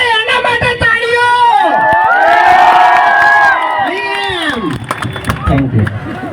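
A crowd at a stage gathering cheers and shouts loudly for a fan who has cancer and brought a gift, with whoops and children's voices in a continuous, close roar that dips briefly near the end.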